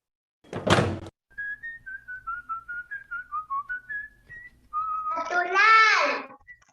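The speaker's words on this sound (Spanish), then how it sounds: "Un silbido, muy bien. Y el silbido proviene de nosotros" A person whistles a wandering melody of short, clear notes, preceded by a sharp thump, and ends with a brief spoken or sung phrase from a child.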